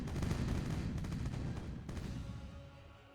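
Cannons fire in the pirate naval battle game Age of Pirates, a dense burst of booming shots rolling together loudly, then a sharp second blast before the rumble fades away.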